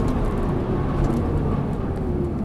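A race car accelerates hard on a circuit in fourth gear, engine droning steadily and loud from inside the cabin for the whole stretch.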